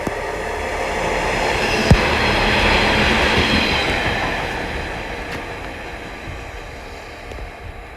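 A class 143 Pacer train passes Exeter St Thomas station with a loud, steady rumble and wheel noise that swells and slowly fades, a sharp click near the start, and no voices.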